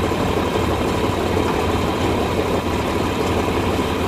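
A tractor engine idles with a steady, loud, low rumble and no change in pace for the whole four seconds.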